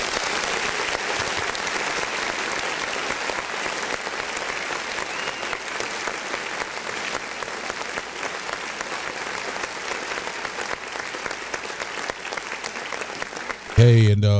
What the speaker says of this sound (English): let me give you guys, you and your whole staff, a big round of applause.